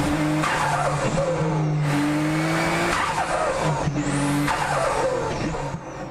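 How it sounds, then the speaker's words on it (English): A turbocharged race car's compressor surges, giving repeated fluttering chirps over engine roar and tire noise, several bursts in quick succession from fairly close by. "This causes a symptom called compressor surge. It makes an awesome chirping sound on race cars."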